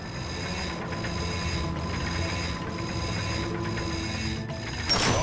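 In the PS4 game Ratchet & Clank, a bolt crank is turned with a steady mechanical ratcheting whir that rises and falls in regular cycles of about a second, ending in a brighter metallic clank.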